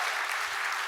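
Audience applause at an Armenian church gathering, a steady dense wash of clapping filling the whole moment without pause, loud and close with no voices over it.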